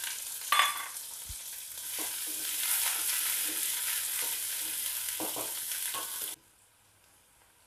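Onions fry in oil with cinnamon and cardamom for a poached egg gravy, a continuous close sizzle with an early clatter and a few soft stirring scrapes, then it cuts off abruptly to near quiet for the last second.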